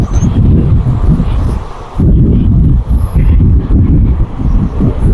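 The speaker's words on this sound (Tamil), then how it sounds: "அந்த அளவுக்கு காத்து தள்ளுது." Strong wind on a hill blasts the phone microphone with heavy, roaring low-end buffeting. It comes in loud, continuous gusts with a brief lull near the middle, and there is no talk over it.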